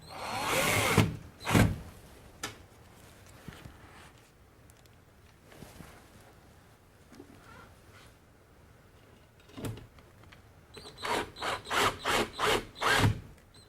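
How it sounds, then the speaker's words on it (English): A driver spinning special screws and washers into a metal brace on a recessed can light during a chandelier conversion, giving short whirring bursts, then a rapid run of five or six quick pulses near the end, close and without talk. "Want to secure the brace to the recess can by using these special screws and washers and using a driver"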